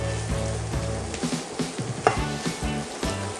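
Boiled chicken dropped into a pan with onion and garlic and stirred, a steady close sizzle of frying broken by repeated scraping and stirring strokes.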